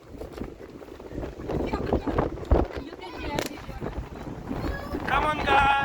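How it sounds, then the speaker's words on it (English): Strong wind buffets the microphone outdoors on a gusty day, roaring and rumbling unevenly while people talk and children's voices rise over it. "It is very windy."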